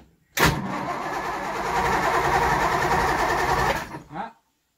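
A 1964 Triumph 2500 barn find, its engine cranked by the starter in one continuous churning run of about four seconds without catching, then a short second burst before stopping.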